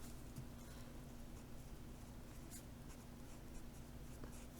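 Marker writing and erasing on a board during an electrical lecture on data center power distribution, a steady soft scratching and rubbing that continues without pause, close by and without talk.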